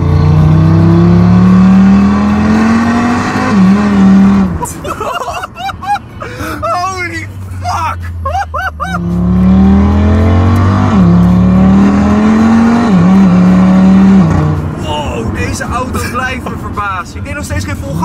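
A 640 hp Audi RS3 widebody accelerates hard through the gears, its engine rising in loud, rasping pulls with short gaps at each shift, interspersed with crackling and revving. People talk over the engine.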